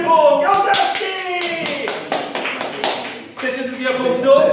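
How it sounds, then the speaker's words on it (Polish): Live audience applause at a Polish public-speaking mentoring session, a dense steady wash of clapping hands running the full length, with a brief dip partway through before swelling again. "Oklaski!"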